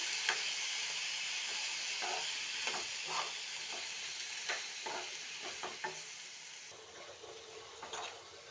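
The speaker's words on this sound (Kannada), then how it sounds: "ಇದಕ್ಕೆ ಟೊಮೊಟೊ ಹಾಕೋದು, ಟೊಮೊಟೊ ಆ್ಯಡ್ ಮಾಡಿದ್ದೀನಿ. ಇವಾಗ ಮಿಕ್ಸ್ ಮಾಡಬೇಕು" Tomatoes being stirred in a frying pan, sizzling and hissing steadily with a spoon scraping through in irregular strokes, close and fairly quiet, with no talk.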